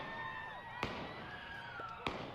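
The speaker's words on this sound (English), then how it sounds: "Gunfire breaking out during a demonstration in Salt Lake City, Utah." Gunfire at a street demonstration in Salt Lake City, Utah: two sharp, distant bangs about a second apart cut through a steady wash of outdoor crowd and traffic noise.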